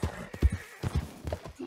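In Red Dead Redemption, a horse's hooves clip-clop in an uneven gait close by, mixed with snorting and whinnying sounds, heard alone at a moderate level.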